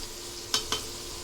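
A spoon stirs taro stolon curry with fried shrimp and spices in a pan on a gas stove, two quick scraping clinks over a steady low sizzle.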